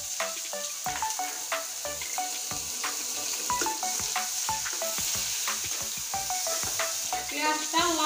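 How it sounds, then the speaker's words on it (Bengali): Chopped onions fry in hot oil with a constant bright sizzle, punctuated by frequent close clicks and scrapes of a spatula stirring in the pan. "পেঁয়াজটা লাল করে ভেজে নেব।"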